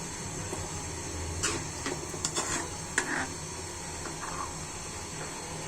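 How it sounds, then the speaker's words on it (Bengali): A fish curry with pointed gourd and chili powder is stirred gently in a pan: quiet scrapes and a few light clinks of a spoon against metal over a low simmering hiss. "আস্তে করে আমি এখন মাছটা নেড়ে দিব"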